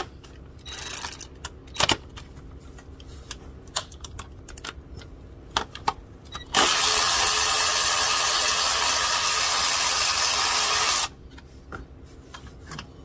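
Bolts loosened with a power tool while removing the A/C compressor from a 2014 Kia Soul, scattered clicks and taps followed by a loud, steady buzzing whir of about four seconds, then more light clicking.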